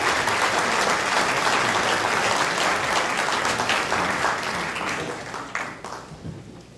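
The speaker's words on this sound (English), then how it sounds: "How about a round of applause for Mr. Freddie K. Kajerski." A hall audience at an International Polka Association Hall of Fame event breaks into sustained, loud applause, dense clapping that carries on evenly and then slowly thins out and fades toward the end.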